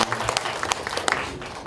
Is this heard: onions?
no